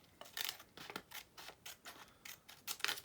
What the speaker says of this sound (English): on the top, we're going to cut right down the middle